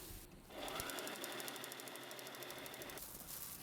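After a brief quiet start, a sewing machine runs a zigzag stitch down the edge of a pouch, a rapid even needle patter that holds steady for a few seconds and then softens slightly near the end.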